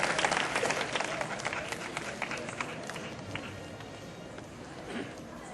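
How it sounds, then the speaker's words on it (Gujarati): A crowd of devotees claps at a religious calendar release ceremony, a dense burst of applause that starts loud and gradually thins and fades over several seconds. "આપણે વાલા ભક્તો જ્યારે કેલેન્ડરનું વિમોચન થાય ત્યારે હાથ તાળીના નાદથી એક વિમોચનને વધારવાનું છે"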